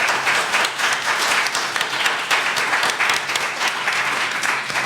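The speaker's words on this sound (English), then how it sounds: "So big round of applause for Echoes." An audience at a criminal justice forum bursts into sustained applause, dense clapping from many hands filling the room steadily for several seconds without pause.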